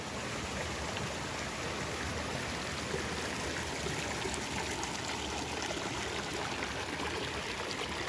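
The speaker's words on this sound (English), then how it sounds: "Beautiful little spot with lots of water" A stream on the Pacific Crest Trail flows with a steady, full rush and babble of water, close and continuous throughout.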